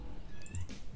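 A real cat meows once, a short high-pitched call close by, with faint background noise.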